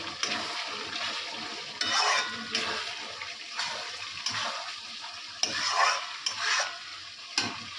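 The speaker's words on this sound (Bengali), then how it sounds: "আর এর মধ্যে আমি মশলাটা দিয়ে দেব চিকেন মশলাটা দিয়ে দেব আরও কষতে হবে" Chicken gizzard and liver sauté with chicken masala in a pan, giving a loud, hissing sizzle that surges and fades as a spatula scrapes and stirs in repeated strokes, with no one speaking.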